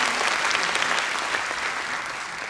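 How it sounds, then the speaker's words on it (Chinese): A large audience at a business convention at the Taipei International Convention Center claps in a loud, even wash of applause that holds steady throughout. "我们再次给他掌声"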